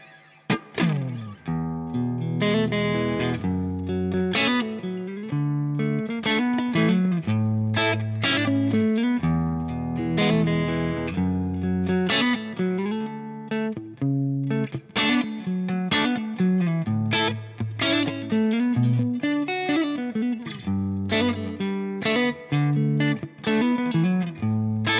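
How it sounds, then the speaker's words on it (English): Heavily distorted electric guitar with humbuckers through a Marshall Origin 20H tube amp at high gain plays chunky rock riffs and chords, loud and continuous with a thick saturated tone and no voices. "Turning up the gain of the amplifier will get us the classic rock tones"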